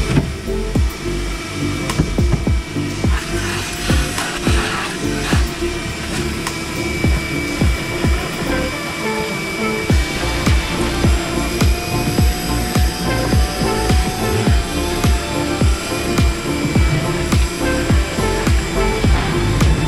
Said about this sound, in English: vacuum is a little bigger than what we would normally use.